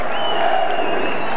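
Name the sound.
boisterous football crowd at Olympic Park, Melbourne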